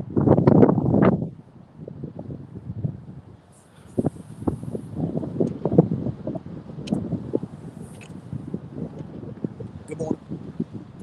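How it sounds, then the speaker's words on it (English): Strong wind gusting at the Virginia Beach pier, a steady rushing buffet against the microphone with louder bursts, under someone talking through much of the clip. "It is so windy."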